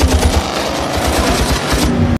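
Gunfire from a film scene, with shots rapidly hitting a car: a loud, dense burst of automatic fire and impacts crackling without a break for about two seconds before cutting off abruptly.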